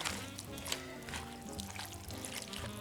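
Chicken broth is poured into a slow cooker over soup ingredients, a steady close trickle and splash of liquid running continuously at moderate volume, with no speech.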